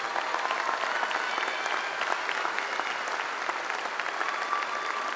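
A crowd at a high school graduation ceremony applauds its top ten graduating students with steady, dense clapping that holds at an even, moderate level throughout.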